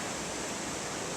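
Floodwater from the remains of Hurricane Irene rushes down a rural road in the Hudson Valley, a dense, steady roar of churning water with no break.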